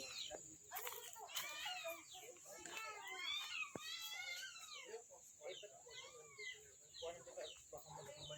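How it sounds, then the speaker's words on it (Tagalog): Many chickens cluck and squawk nearby in a lively flock, overlapping calls rising and falling while children's voices and people talking mix in faintly in the background. "Daming manok."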